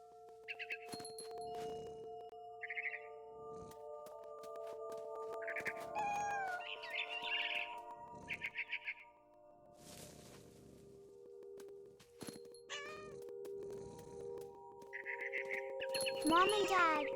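Several short, rising cat meows from the video game What Remains of Edith Finch, scattered through about seventeen seconds over soft game ambience, with a voice speaking at points.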